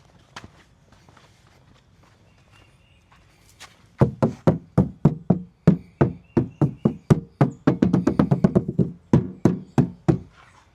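Quiet moments, then a series of close knocks on the sound-deadened door panel of an R52 MINI, dull, solid thuds in uneven rapid bursts, louder and denser toward the middle.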